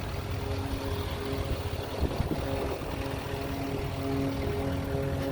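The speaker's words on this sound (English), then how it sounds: "That's the Duramax engine." 2018 Chevrolet Silverado 2500 LTZ 4x4 with a Duramax diesel engine running at a steady idle, a low rumbling drone with a faint hum, moderately quiet and continuous, no talk.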